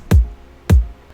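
Two layered kick drum samples, one lower and one a brighter top layer, in a future bass track, hit together twice about half a second apart, punchy and deep with a short decay, alone.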